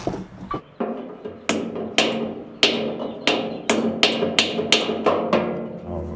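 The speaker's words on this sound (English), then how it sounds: "Get my little red hammer." A small red hammer striking repeatedly, about a dozen sharp, close knocks in an irregular rhythm that speeds up toward the end, each blow ringing briefly before the next.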